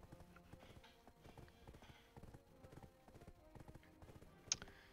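Horse hooves clip-clop steadily while riding in Black Desert Online, a soft, even rhythm of footfalls that runs the whole way, with one brief sharp click near the end.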